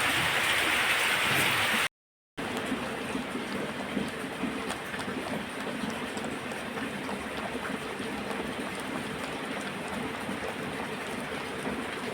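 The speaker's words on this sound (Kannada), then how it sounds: "ಎಂಥ ಮಳೆ ನೋಡಿ." Steady, dense rainfall hisses continuously, broken by a brief silent gap near the start, then resuming as a heavy wash of sound.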